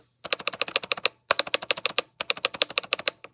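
Rapid keystrokes on a Womier WK61 mechanical keyboard in three quick bursts with short pauses between, crisp and close, with no voices.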